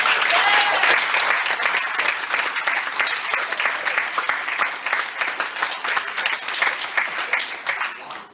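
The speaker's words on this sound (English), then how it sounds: "Please give them another round of applause." Sustained applause from an audience at a vocal department honors recital, honoring students; dense, steady clapping fills the whole stretch at full strength, easing slightly toward the end.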